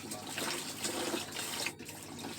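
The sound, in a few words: water being poured in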